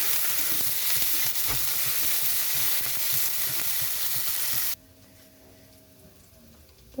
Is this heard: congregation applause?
no